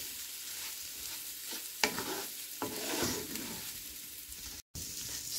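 Raw rice stirred and toasted in a pan for a Greek dinner, a soft continuous sizzle broken by scraping strokes of a utensil and a few sharper clinks, close by with no talking.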